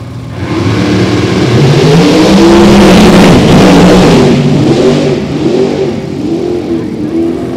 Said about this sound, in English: So Ernest on and off the throttle